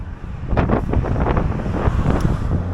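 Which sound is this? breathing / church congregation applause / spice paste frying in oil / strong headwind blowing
strong headwind blowing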